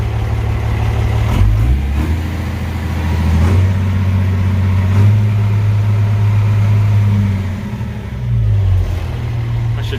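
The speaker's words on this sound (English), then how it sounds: "But it's showing good temps and pressures. And John Deere 6068 is a good motor." A John Deere 6068 diesel engine idles steadily on a log loader, a loud low rumble running throughout with slight shifts in pitch and no talk.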